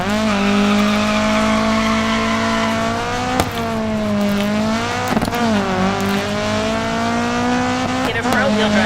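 A front-wheel drive rally car in the DiRT 4 racing game, its engine droning loud and steady with pitch dips and climbs as it shifts and brakes, with tire skids and squeals scattered through.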